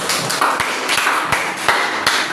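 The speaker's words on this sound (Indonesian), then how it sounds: "Oke, tepuk tangan dulu buat Alfian." Classroom of students clapping for a classmate during a lesson, a thin patter of hand claps with several sharper individual claps standing out, moderately loud and close.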